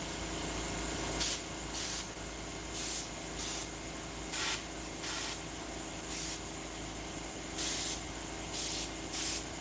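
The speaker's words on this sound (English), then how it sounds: "I have a central pneumatic airbrush, and I'm not exactly sure what paint to use." Short bursts from a Central Pneumatic airbrush spraying ink, about ten separate hissing puffs at an irregular pace over a steady low background hum, close and fairly loud, with no talking.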